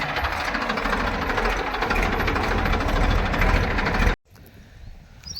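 A tractor engine runs on a farm, fitted with a tine cultivator for ploughing fields, chugging loud and close with a steady knocking throb until it cuts out abruptly near the end, leaving quieter outdoor background.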